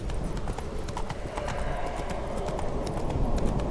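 Roach, a horse in The Witcher 3, gallops in rapid, even hoofbeats close by over a rumbling background.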